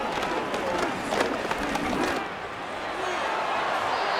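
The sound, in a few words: uneasy crowd murmur, from football simulation video game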